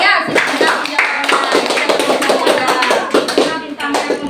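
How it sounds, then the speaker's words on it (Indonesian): Classroom of students clapping for group 2 after a presentation, a dense, steady patter of many hands close by lasting several seconds. "Beri tepuk tangan untuk kelompok"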